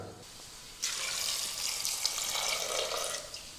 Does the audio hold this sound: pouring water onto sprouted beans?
yes